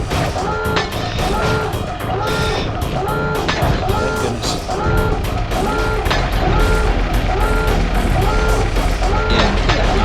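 Alarm in the Sly Cooper game Tides of Terror blares in a steady repeating pulsed pattern, loud and continuous throughout.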